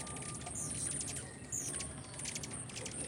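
Pet cockatiels chirp in short, bright calls scattered through steady background noise, with a faint mechanical rattle underneath; no one talks.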